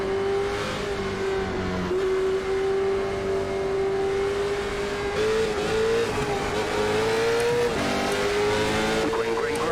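Late model stock race cars roar at Irwindale as the green flag drops, a loud, sustained engine drone that climbs slightly in pitch, with a commentator talking over it throughout.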